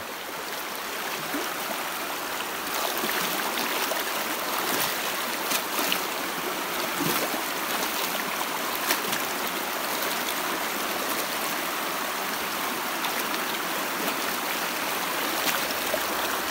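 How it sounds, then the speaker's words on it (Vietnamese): Cold mountain stream rushing over a rocky, stone-packed bed in a forest, a steady close wash of flowing water with small splashes throughout. "Lòng suối này dày đặc đá."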